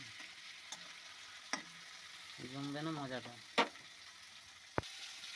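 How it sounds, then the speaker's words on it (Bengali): Pointed gourd (potol) pieces with a little turmeric fry lightly in a pan, giving a soft steady sizzle with a few sharp clicks of stirring, while a voice speaks over it briefly. "হালকা হালকা ভেজে নিতে হবে"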